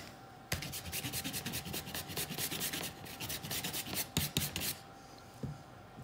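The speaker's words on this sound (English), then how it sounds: "So when it's frozen, it's way easier to grate and process." A frozen fibrous ingredient is grated in a kitchen, giving quick, faint, rasping scrapes in a rapid rhythm close to the microphone before trailing off.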